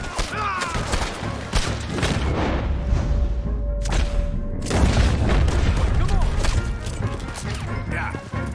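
A gunfire volley in the Red Dead Redemption 2 video game during a Chapter 6 encounter: dense, repeated loud shots and booms crackle throughout, overlapping one another, with voices shouting in the mix.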